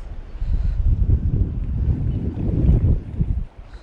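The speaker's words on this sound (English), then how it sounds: "This wind's going to make it very difficult" Strong wind blowing at a shoreline fishing spot on a bay, a steady, loud roar buffeting the microphone for several seconds with no talking.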